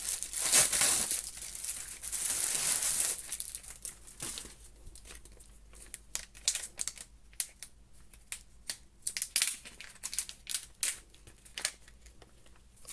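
A replacement 20 mm smartwatch strap being fitted by hand, giving a run of small crinkling clicks and plastic snaps, denser and louder at first, then scattered sharp ticks close up with no voices.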